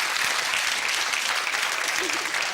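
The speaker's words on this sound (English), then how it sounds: "Round of applause there." A television game show studio audience gives a round of applause, a dense, steady, close wash of many hands clapping throughout, with a faint voice underneath.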